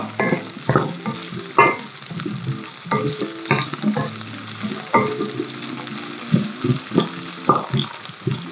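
Onions sautéing in a hot pan for shahi paneer, a close sizzle broken by frequent scraping and stirring knocks in an uneven rhythm, with no speech.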